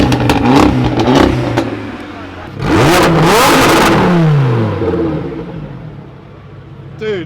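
An Abarth 124 Spider's engine pops and burbles on launch control, then surges into a loud, close rev that holds before dropping away, with a car passing at the end.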